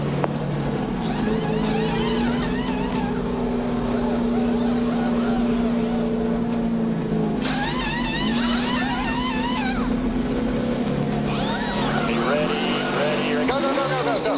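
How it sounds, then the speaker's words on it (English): A NASCAR Sprint Cup race car pulls away from a pit stop during an All-Star event, with loud continuous engine roar rising in pitch as it accelerates, while other cars and crowd noise fill the background. "Good stop, good launch for Casey Kane."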